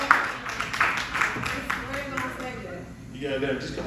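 Crowd clapping at an Atlanta comedy pop-up show, a dense patter of hands under loud talk from the emcee hyping the room, fading somewhat toward the end.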